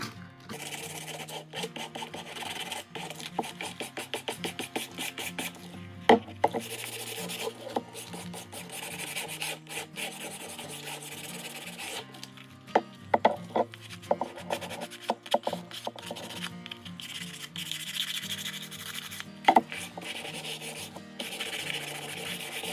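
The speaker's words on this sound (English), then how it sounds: "Now we're just going to sand that just to give it a little more character." Hand sanding of a painted wooden farmhouse decor piece to rough it up, a steady rasping rub with occasional sharper scrapes, close and continuous, with music playing underneath.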